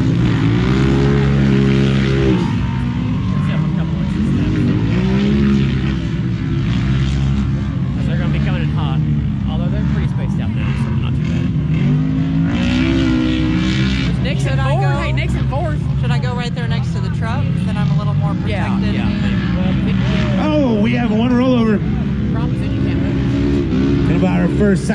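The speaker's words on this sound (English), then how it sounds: "We've got a lot of UTVs in this heat, guys. This racing's gonna get tight." A heat of UTVs racing on a dirt track at Brookdale Farms, Missouri: loud engines drone and rev without a break, rising and falling as the vehicles pass, with a voice talking over the noise.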